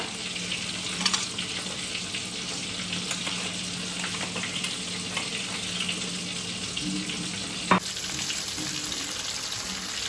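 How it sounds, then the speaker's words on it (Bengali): Cumin seeds, bay leaves, chopped tomato and a spice paste fry in hot oil with a constant dense hiss and crackle, punctuated by a few clinks and one sharp clatter from a utensil. "ফার্স্টেই তেলে দিয়ে দেবো একটু জিরে ফোড়ন, দেন দিয়ে দেবো দুটো তেজপাতা, তারপর দিয়ে দেবো কুচি করে রাখা টমেটোটা, অ্যান্ড দেন দেবো এই পেস্টটা"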